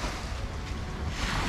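Waves wash onto a littered beach shore at Pantai Bandengan, Jepara, as a continuous broadband surf roar mixed with gusty wind buffeting the microphone.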